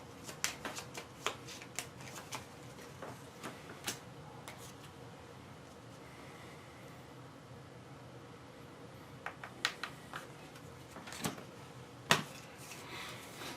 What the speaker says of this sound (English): Oh, we need to shuffle.